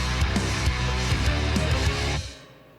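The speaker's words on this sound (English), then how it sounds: "On their socials, they posted like this 2-second clip of the new song" Brief hard rock guitar riff from a new song by a band, dense and driving with punchy drum hits, loud and full for about two seconds before cutting off abruptly.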